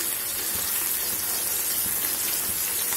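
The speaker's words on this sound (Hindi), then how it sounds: "तो अपने कटलेट को डाल देंगे इसमें आराम आराम से। हमें इसे तेज गैस पे ही फ्राई करना है।" Corn cutlets frying on high gas in hot oil, a continuous loud hiss and crackle of sizzling with faint bubbling pops, steady throughout without talk.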